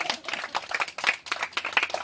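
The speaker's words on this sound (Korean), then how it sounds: "박수 한번 쳐드려야겠네요." A small group at a church thanksgiving service claps for a short moment, a quiet, uneven patter of individual claps without any talk.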